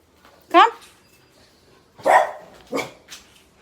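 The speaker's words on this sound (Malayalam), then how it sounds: "കുക്കി എന്താണോ പതിവില്ലാതെ കുരയ്ക്കുന്നു" A pet dog barking unusually at home lets out three or four sharp, close barks spaced about a second apart, with quiet gaps between them.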